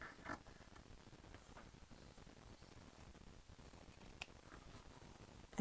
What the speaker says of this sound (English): So now I'm going to just trim this up a little bit.